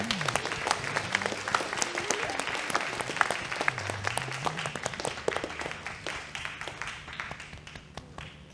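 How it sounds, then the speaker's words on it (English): Audience applause filling the room, dense clapping from a crowd that holds steady and then slowly thins out, with a voice speaking briefly underneath. "Can we give Casey a round of applause"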